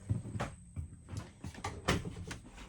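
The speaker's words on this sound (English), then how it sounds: "So this is your bathroom door. When I open it, it's going to connect to this magnet piece" Bathroom door in a Thor Quantum M-29RQ RV swinging open and shut against a magnet catch, giving a few light clunks and taps in a quiet interior.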